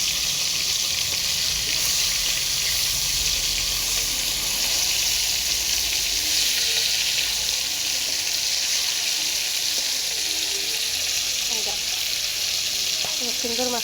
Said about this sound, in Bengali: সুন্দর মাছটা ভাজা হয়ে গেছে।